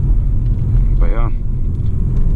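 Interior drive in a 2020 BMW 430i xDrive with the B48 engine, a deep steady low rumble of engine and road noise, with a brief voice heard over it midway.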